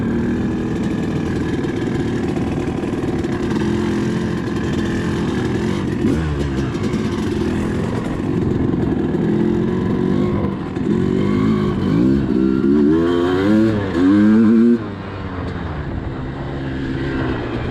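A Suzuki RM250 two-stroke dirt bike, freshly rebuilt, runs steadily and fairly close, its engine note rising and falling with throttle blips and revving up sharply near the end before easing off.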